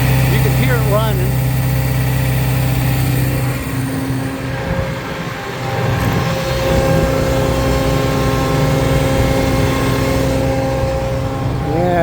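A PTO-driven air compressor runs on a 2010 Freightliner Maintainer lube truck, a steady mechanical drone with engine hum, near and continuous, while someone talks over it.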